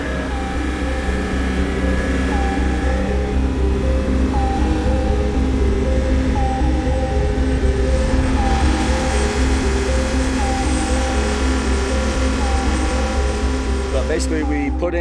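An engine on a helicopter-style party barge runs steadily after a temporary fuel pump and filter were rigged to bypass its electric pump, a loud continuous drone with layered tonal hum throughout and talk over it.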